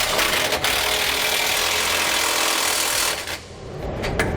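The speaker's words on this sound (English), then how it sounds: "Then we'll come back with that same 21mm socket and tighten up the bolts." Impact wrench or power tool driving bolts with a 21mm socket on an anti-sway bar bracket under a 2012 Tiffin Allegro motorhome: a loud continuous rattling buzz for about three seconds, then a brief pause and a short burst.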